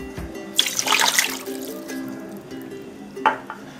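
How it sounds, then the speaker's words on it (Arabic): Water poured from a glass into a cooking pot on the stove, a short splashing gush near the start followed by a brief second splash, with a low simmering hum underneath. "غنديرو كاس ديال الماء."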